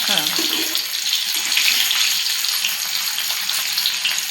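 Semolina-coated river fish sizzles loudly in hot oil in a home kitchen pan, a constant bright crackling hiss with a brief lower disturbance near the start as pieces are flipped.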